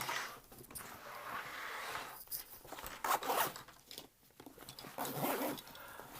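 A Vanquest Falconer 27 backpack zipper is dragged shut in several quick, scratchy pulls, close and fairly quiet, with short pauses between strokes.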